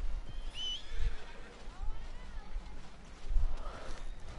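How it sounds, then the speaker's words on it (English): A horse in the Red Dead Redemption 2 video game gives a clear whinny near the start, with a few softer breathy snorts and low thumps scattered through an otherwise quiet stretch. "Oh, so this is my horse coming."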